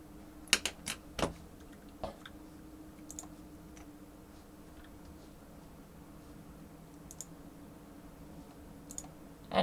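A computer mouse clicks to switch between characters in a pixel-art game, with a few sharp clicks close together near the start, then sparse faint clicks over a quiet background hum.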